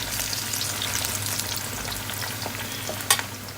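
Plantain slices frying in hot oil give a steady, close crackling sizzle throughout, with a brief sharp clatter near the end.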